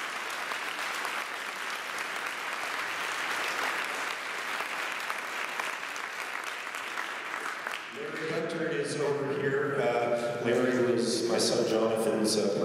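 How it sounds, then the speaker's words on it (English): An audience claps for performers at a retirement follies show, a dense and sustained round of applause that continues as voices rise over it in the second half. "Let's have a round of applause"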